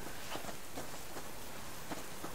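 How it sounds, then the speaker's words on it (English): Rain falls in the survival game Subsistence, a quiet, even hiss of drops pattering on surfaces with faint scattered ticks, with no voices. "I'm not going cougar hunting in the rain."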